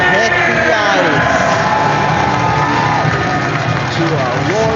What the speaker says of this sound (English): to a roaring crowd here in Sioux City, Iowa.